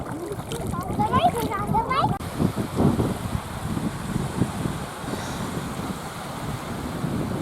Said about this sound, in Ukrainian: вітер сильний, нагнав хвилі